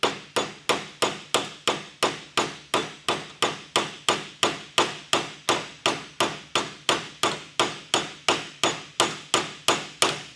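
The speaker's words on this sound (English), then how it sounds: "The hammer's literally bouncing off that surface." Steady, evenly spaced hammer taps seating a door hinge part on a second-generation Chevrolet Camaro, about three blows per second, sharp and close, continuing without a break.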